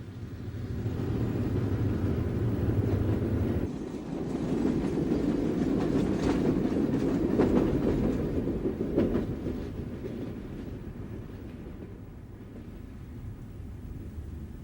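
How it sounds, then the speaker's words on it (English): Wabash Railroad westbound freight train led by a freshly painted E7 passenger diesel locomotive passing through Belleville, Michigan, a steady rumbling roll with clicking wheels on rail joints that gradually fades as it moves away. "The westbound afternoon freight through Belleville, Michigan was led by a freshly painted E7 passenger unit with the new Wabash colors."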